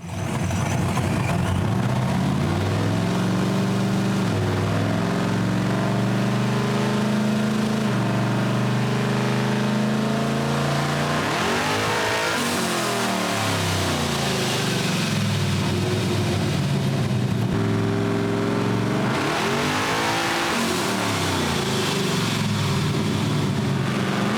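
Turbocharged engine on a dyno making a pull, a loud continuous drone that sweeps up and down in pitch through several rising revs, with no talk.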